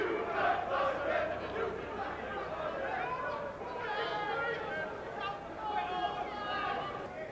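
Rugby league crowd at Craven Park, Hull, shouting and chattering in a steady mass of voices, with bursts of raised calls rising over continuous babble throughout.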